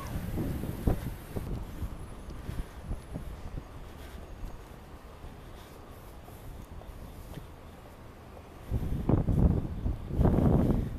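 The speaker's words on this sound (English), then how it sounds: "it is still kind of windy" Wind buffets the microphone in low rumbling gusts, steady through most of the clip and swelling into louder blasts near the end.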